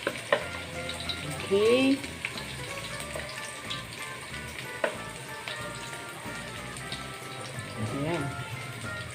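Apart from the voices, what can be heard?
garlic and onion sautéing in a pan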